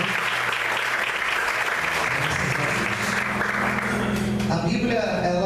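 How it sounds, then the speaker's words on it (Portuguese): A church congregation applauds during a worship service, a loud, dense and continuous wash of clapping that holds steady throughout, with faint tonal sounds entering near the end. "Vamos aplaudir o Senhor."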